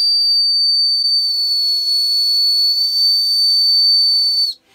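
A Tesla CyberWhistle blown as loudly as possible gives a loud, sustained high-pitched whistle held steadily for several seconds, slightly breathy, then cutting off abruptly at the end.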